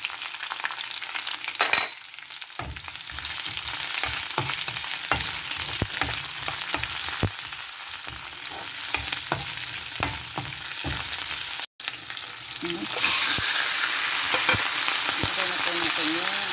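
Onions sizzle and crackle in hot oil for bicol express while a utensil scrapes and stirs them in the pan, the frying steady and close throughout with a brief sharp clack near the end.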